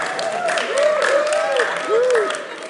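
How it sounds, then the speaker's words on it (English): Applause at a summer camp junior staff information session, a modest group clapping under a sustained tonal drone, brief and fairly close. "Look at that rousing applause."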